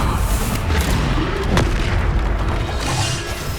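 Bombarda blasting spell cast in Hogwarts Legacy, a dense booming explosion with a sharp burst near the middle, set over continuous loud game action and rumble.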